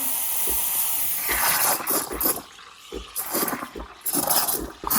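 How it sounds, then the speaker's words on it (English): Steam wand on an Oami 20-bar espresso machine hisses in broad, uneven bursts for several seconds, loud and close, dropping briefly between surges with faint clinks. "We're gonna switch this to steam. Let it steam for about 10 seconds before you start to put it in."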